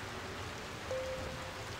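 Rain falling in the video game Sky, a soft, steady hiss of drops on surfaces with no break, fairly faint and alone.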